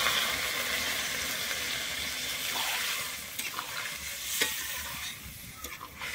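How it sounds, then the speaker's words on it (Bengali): Warm water pours into a pan of sizzling masala for cauliflower and peas, a loud steady frying hiss with a few faint clinks near the end and no speech. "আমি এবার উপর থেকে জল দিয়ে দিচ্ছি। এখানে কিন্তু আমি উষ্ণ গরম জল দিচ্ছি।"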